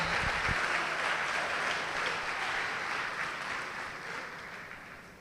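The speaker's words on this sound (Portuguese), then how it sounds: "Vamos aplaudir o Senhor e se coloque de pé no seu lugar." A church congregation applauds together, a broad steady roar of many hands that slowly fades toward the end, with a couple of low thumps near the start and no speech.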